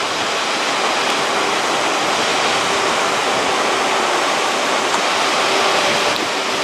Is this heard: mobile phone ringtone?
no